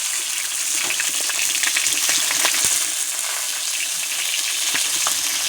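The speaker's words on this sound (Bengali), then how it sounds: "আজকে ভোলা মাছ ভাজা করছি" Bhola fish fry in hot oil, giving a loud, continuous sizzle with crackling pops and spits throughout and no talking.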